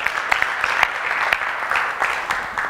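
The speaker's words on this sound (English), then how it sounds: "round of applause for the love cards" An audience at a professional chapter workshop on storytelling and presentation skills claps in a steady, fairly loud round of applause, with a few sharper individual claps standing out.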